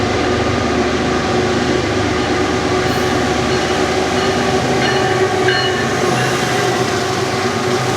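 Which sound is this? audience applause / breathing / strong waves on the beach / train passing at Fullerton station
train passing at Fullerton station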